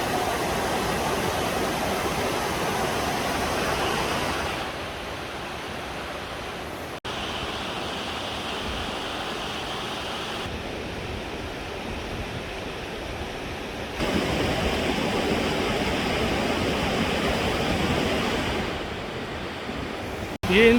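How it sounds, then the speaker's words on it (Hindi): Water rushing steadily through broken, damaged water channels diverted for hydroelectric power near Gabral, a continuous roaring flow with the level shifting slightly between sections and no talk. "ये इनके वाटर चैनल है"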